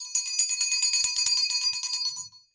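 A small handheld bell, a mother's heirloom used to clear energy, is shaken in a rapid, bright tinkling run that lasts about two seconds, close and clear, before it stops abruptly.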